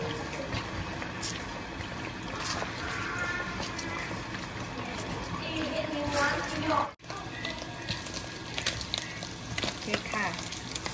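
Beaten eggs fry in a large wok for shrimp pad thai, giving a steady close sizzle with scraping and stirring throughout. The sizzle dips sharply near the middle before resuming.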